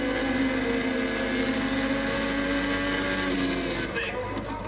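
A 1987 Formula 1 car at Silverstone, heard from onboard Satoru Nakajima's car, gives a loud, continuous high-revving engine drone with steady harmonics that fills the whole stretch.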